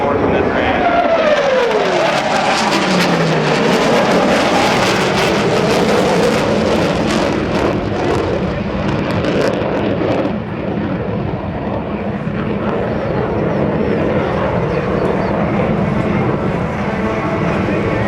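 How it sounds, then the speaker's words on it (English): A military jet roars past at the NAS Oceana airshow, its loud sweeping engine noise falling in pitch early on and then settling into a steady, heavy rumble that fills the whole stretch. "Flying today's demonstration aircraft is Lieutenant Chris Lobot Martin."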